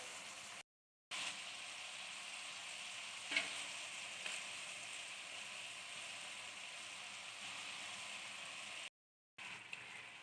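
Boiled rice being added to chicken and vegetables frying in a pan for Chinese rice, with a steady broadband sizzle throughout, briefly cut by two short silences and one sharper spike as the food hits the hot oil.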